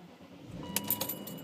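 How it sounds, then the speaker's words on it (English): Keys jangle against the ignition of a BMW E38/E39/E53-era car as it is started, a brief close metallic rattle over a low idle-like hum, with no one talking. "I'm going to start the car so we can actually see the pixels firsthand"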